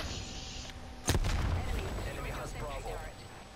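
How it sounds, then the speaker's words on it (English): A sentry turret blown up in Black Ops Cold War, one sudden booming explosion with a rumbling tail over faint game sounds, with a voice talking over the noise. "He really destroyed my sentry turret."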